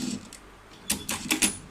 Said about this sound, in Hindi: अभी हम अगर ट्रिमर ऑन करेंगे तो ट्रिमर भी चलेगा। ठीक है, ट्रिमर ऑन हो गया और ये ट्रिमर वाला बटन है। अभी अब चला के चेक करते हैं।